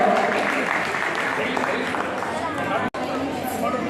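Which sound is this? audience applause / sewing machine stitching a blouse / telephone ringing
audience applause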